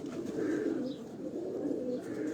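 Pigeons coo softly on a rooftop loft in Karachi, a low continuous murmur of cooing with no talk.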